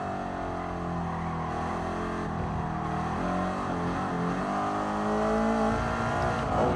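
A race car engine revs and drones continuously in GT Sport, holding a loud, steady note that climbs and surges through gear changes, with no talk over it.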